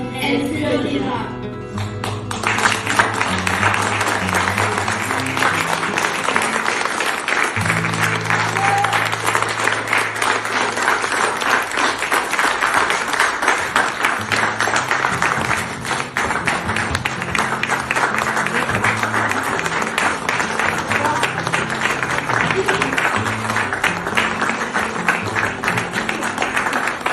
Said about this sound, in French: Encore un tonnerre d'applaudissements à nos 4 intervenants.